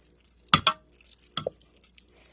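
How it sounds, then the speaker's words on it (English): A spoon stirs thick mac and cheese in a pot, giving two quick wet, sticky scrapes followed by a softer squelch, close and quiet. "Let's stir it a little bit."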